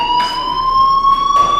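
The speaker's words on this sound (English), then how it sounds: "do you hear that fire alarm?" A school fire alarm in Life Is Strange rings loudly and continuously, a steady piercing electronic tone with harsh bursts of ringing layered on top, no voices.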